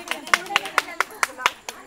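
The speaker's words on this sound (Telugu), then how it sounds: "చప్పట్లో" Hand claps at a comedy game show, about eight sharp claps in a steady rhythm, moderately close, with faint voices underneath.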